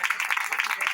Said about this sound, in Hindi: आइए जोरदार ताली बजाएं।